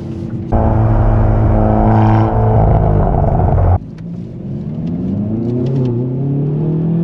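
A Hyundai i30N pulls hard on the road, its engine droning loudly at a steady pitch inside the cabin before the note drops off and the revs climb again, with faint crackles from the exhaust as the throttle lifts.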